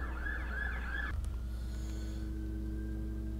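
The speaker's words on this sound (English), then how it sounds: "Hang on, we got a siren here." A siren wails in repeated rising and falling sweeps, fairly loud, then cuts off abruptly, leaving a steady low engine hum and faint tones behind.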